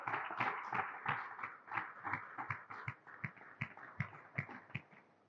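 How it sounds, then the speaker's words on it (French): Small audience applauding a contestant at a quiz game, a loose series of distinct handclaps at moderate volume, sparse and uneven rather than a dense roar. "Applaudissez pour Manzetto."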